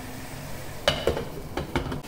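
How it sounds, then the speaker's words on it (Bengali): Fish head cooking in a pan on a home stove, a low sizzle under a few sharp utensil clinks and scrapes against the pan, close and fairly quiet. "এখন রান্না করছি"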